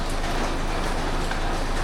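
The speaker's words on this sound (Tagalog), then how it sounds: "Lakas ng ulan." Heavy rain pouring outdoors, a dense, constant hiss of falling water that stays loud and even throughout, close by, with no voices.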